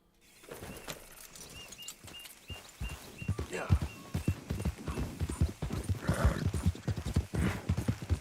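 Horse hooves clip-clopping at a walk on the ground in the video game Red Dead Redemption 2, with a brief whinny early on, steady uneven footfalls at moderate distance throughout.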